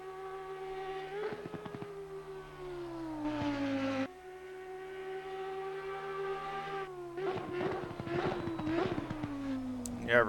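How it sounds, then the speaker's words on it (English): An Audi R8 Evo GT3 V10 race car in Assetto Corsa Competizione howls through gear changes, its engine pitch climbing and dropping with sharp shift blips and rasping downshift crackles, loud and steady with faint talk underneath. "I love the Audi sound, the V10 in that Audi."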